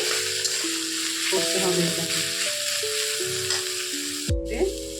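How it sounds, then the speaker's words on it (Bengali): Cabbage and gram flour fry in a pan over low heat, a steady close sizzle running throughout beneath someone speaking, with a brief clatter near the end. "আঁচ কমিয়ে এটাকে আমি ভাজা ভাজা হতে দেব কিছু সময়ের জন্য"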